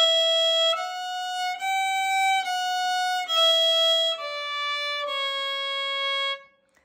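A bowed fiddle plays the first phrase of Old Joe Clark, starting on open E, sustained notes each held smoothly before the next, clear and close with no talking.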